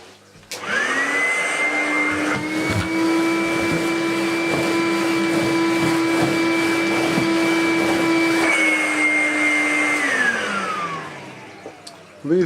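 A 250-watt Vorwerk VK120 dirty-fan vacuum cleaner with a slightly broken power head starts up with a rising whine, holds a steady loud motor hum for about nine seconds, then winds down with a falling pitch.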